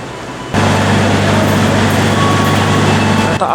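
A passenger train in Indonesia pulls in and keeps running, a steady loud rumble with low droning hum starting abruptly and holding close by throughout.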